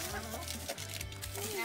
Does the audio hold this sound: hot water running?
no